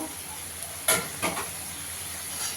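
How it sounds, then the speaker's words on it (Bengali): Masala of Kashmiri chilli powder, turmeric, coriander and cumin powder sizzling in a pan while being stir-fried, with a couple of sharp scraping strokes over a soft, steady hiss. "মশলাটাকে ভালো করে একটু কষিয়ে নেব"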